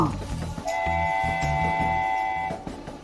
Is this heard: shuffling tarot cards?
no